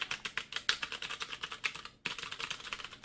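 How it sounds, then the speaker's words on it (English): Keys clatter on a Redragon K591 Parvati, a thin metal-bodied gaming keyboard with red switches, in rapid, close-up strokes. The typing breaks off for a short pause midway, then resumes at a steady pace. "this is the sound you'll hear when you're hitting the keys"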